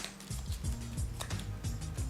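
Playing cards riffled and shuffled by hand, a few short quick bursts of crisp flicking in steady succession, close and clear with no talk.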